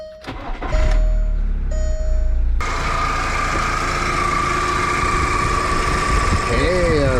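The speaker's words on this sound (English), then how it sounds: "our fan was spinning" The air-conditioning fan on a VW Beetle starts up with a click and brief rising whir, then settles into a loud, steady hum with engine running beneath it.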